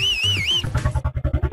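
A person whistles a short, loud, warbling two-note call up close, followed immediately by rhythmic thumping beats.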